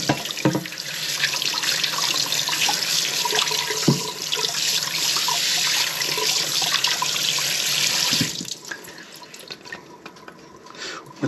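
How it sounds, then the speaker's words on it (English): Steady rush of tap water running over a cutting board in a sink, close and continuous with small splashes, cutting off near the end to a quieter trickle. "Rinse away the cutting board."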